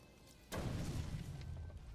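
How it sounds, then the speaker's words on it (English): A sudden explosion in the video game Batman Arkham Origins, a sharp boom that cuts in abruptly and then rolls into a fading, rumbling decay. "You guys don't look at explosions."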